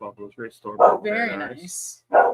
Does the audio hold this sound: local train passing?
no